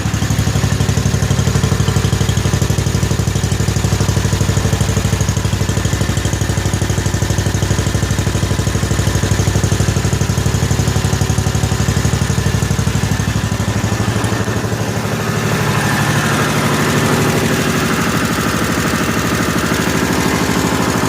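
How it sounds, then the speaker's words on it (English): A 1955 Cushman Truckster's small engine idles steadily and close by on a cold start, a smooth low chugging rumble with light clatter that eases slightly near the end. "what a smooth running, quiet little engine this thing really is"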